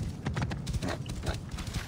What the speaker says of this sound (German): Mit dem Pferdchen geht es relativ schnell.